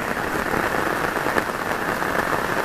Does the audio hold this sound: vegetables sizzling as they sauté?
no